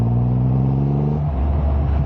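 A 2023 Triumph Rocket 3R motorcycle engine pulls hard in a long gear, a deep loud rising growl that drops off as revs change partway through, close and continuous.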